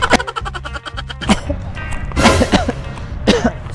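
A man coughing repeatedly while riding an escalator, a run of harsh close coughs followed by throat clearing, loud and near with some background noise.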